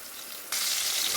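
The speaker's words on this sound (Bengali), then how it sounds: "বেগুনগুলো ভাজা হোক" Eggplant pieces fry in oil for a dish with salted dried hilsa. After half a second of quiet, a loud, bright sizzle bursts in abruptly and then holds steady to the end, with no voices.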